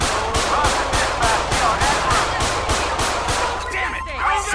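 Rapid gunfire in GTA 5 rings out as shots are fired at police in Paleto Bay, a regular burst of about a dozen loud, evenly spaced cracks over continuous background noise.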